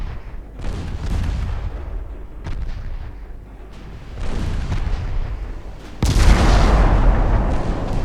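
Naval 11-inch guns boom in Ultimate Admiral Dreadnoughts during a 1913 Norwegian campaign battle, several heavy rumbling blasts rolling one after another, the loudest and sharpest arriving near the end, with no voices over them.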